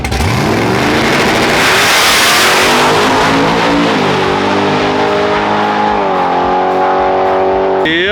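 A Chevrolet COPO Camaro with a ProCharger launches hard on a quarter-mile drag strip, its engine roaring loud and close, rising in pitch through the gears and then fading slightly as it pulls away.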